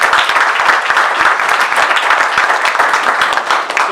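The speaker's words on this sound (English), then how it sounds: "Does he deserve a round of applause?" An audience claps and cheers in a dense, continuous round of applause, loud and close throughout the four seconds.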